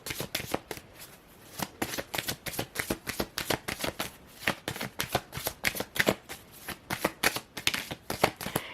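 Tarot cards shuffled in a steady run of crisp, fast riffles and flicks, close and fairly quiet, with brief pauses between bursts and no talking.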